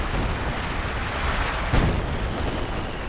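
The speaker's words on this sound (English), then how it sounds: "Major artillery down the bottom temporarily stops the capture attempt" Artillery fire in Company of Heroes 2 rumbles under a dense, noisy wash of battle, with one sharper low boom standing out briefly amid continuous rumble, loud and with no talking.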